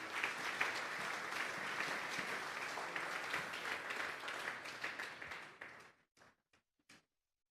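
A church congregation claps in a sustained burst of applause during an evening service that fades out, ending with a handful of isolated claps.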